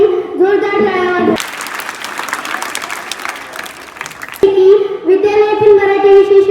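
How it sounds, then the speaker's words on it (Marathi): A school audience bursts into about three seconds of dense, loud applause for students at a Marathi Language Day celebration in Latur, with an amplified voice speaking just before and right after. "सर्वांनी या विद्यार्थ्यांसाठी जोरदार टाळ्या वाजवा"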